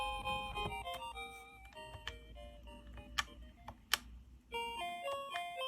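Chiptune-style game music and beeping effects from a Sega Game Gear handheld being repaired, with scrambled graphics but working sound; steady tonal melody lines with sharp clicks and blips, fairly close and uninterrupted by talk.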